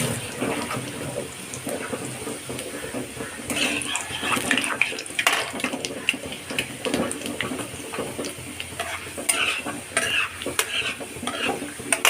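Steady sizzling of chopped garlic frying in hot oil until reddish, with scraping stirs from a spatula cutting through the crackle, close by and without talk.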